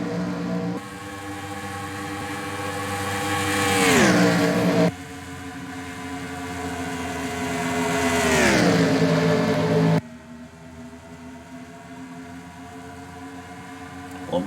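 Racing video game cars at Auto Club speedway roar past in two rising engine passes, each swelling and sweeping down in pitch as it goes by, then a steadier drone from the field follows.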